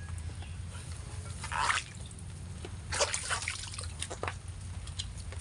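Holy water drips and splashes in a few irregular bursts over a low steady hum, close by and moderately loud.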